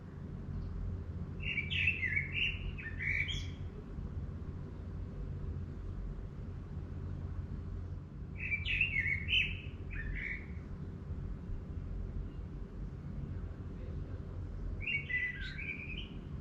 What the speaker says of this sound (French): Laissez-vous accompagner par le chant des oiseaux.